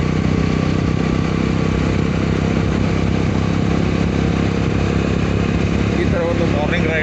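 A motorcycle engine drones steadily and loudly on a morning ride from Belur to Banashankari, a continuous close hum and rumble with wind noise throughout and no clear pauses.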